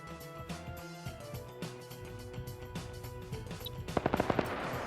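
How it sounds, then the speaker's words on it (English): A PKT machine gun fires during a tank battle in a video game, with a quick burst of about five sharp, loud shots near the end standing out over a dense din of other combat sounds. "the PKT's firing at infantry"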